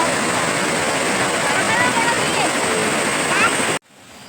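The Thamburattippara waterfall roars in a steady, dense rush of falling water, loud and close, unbroken until it cuts off abruptly near the end.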